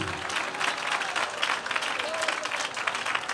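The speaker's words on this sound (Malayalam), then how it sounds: "നല്ല കൈയടിക്ക് ചെറുക്കന്മാരെ" A church congregation at a Malayalam Christian service bursts into sustained, dense applause, many hands clapping steadily throughout at a moderate distance.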